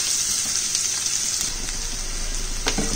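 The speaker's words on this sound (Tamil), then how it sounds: "வெங்காயம் வதங்கிட்டு இருக்கு." Onions sauté with ginger and garlic in a pan for a peas masala, producing a constant hissing sizzle at steady volume, with a couple of faint stirring knocks and no voices.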